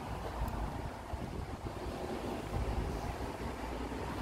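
Cold wind buffets the microphone outdoors with a steady low rumbling roar of irregular gusts, close and fairly loud, and no voices.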